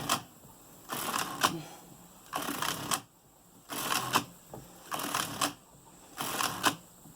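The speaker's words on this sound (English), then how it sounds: "This is not a machine that it's a good idea to knit lickety-split." A Suitcase Superba knitting machine knits a tubular cast on, with the carriage passing in repeated bursts of rattling, clacking mechanism about every one to two seconds, separated by short quiet pauses.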